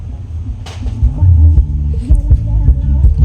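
Deep, throbbing low bass booming from a repaired NXS NXDW-103F 10-inch subwoofer box, heavy and rumbling with a pulsing rhythm, loud and close.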